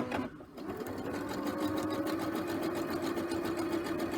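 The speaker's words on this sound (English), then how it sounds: "carefully you are going to zigzag stitch around the edge" A sewing machine zigzag stitching around the raw edge of an appliqué piece, running steadily and close with a fast, even mechanical whir after a brief start.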